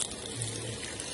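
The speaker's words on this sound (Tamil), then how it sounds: "சோ இது தேவையான அளவு தண்ணி விட்டுக்கு போறேன்." Water pours from a tap into a cooking pot of lentils in a home kitchen, a steady close splashing stream lasting about a second.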